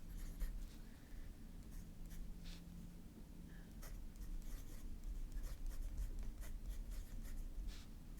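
A Sailor Pro Gear Slim fountain pen with a broad nib scratching across paper in short, quiet, close strokes with pauses, in a calm, otherwise silent room.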